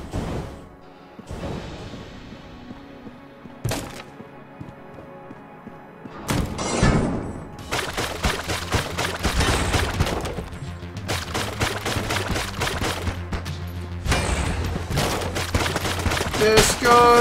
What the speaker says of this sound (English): Don't shoot guns in the shop.